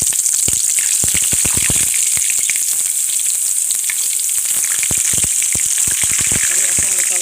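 Eggplant sizzles steadily in a hot pan for moussaka, a dense crackling hiss running the whole time with sharp pops and spits scattered throughout, loud and close.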